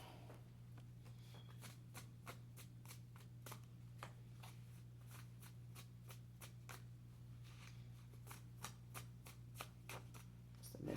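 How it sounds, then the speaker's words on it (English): A deck of cards being shuffled up close: a fast, steady run of crisp flicks and riffles continuing for several seconds over a constant low electrical hum, with no talking. "let's go ahead and pull a few cards"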